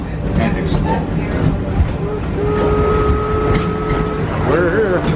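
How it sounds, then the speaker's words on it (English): The train ride at Rafiki's Planet Watch, Walt Disney World, gives off a steady, loud mechanical rumble with a sustained tonal whine partway through, and voices are faintly present in the background. "Remain seated until the train comes to a complete stop."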